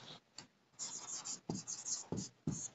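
Writing on a board while working through the lens formula, heard as scratchy strokes in short bursts and longer runs, with brief pauses between lines and faint speech at times.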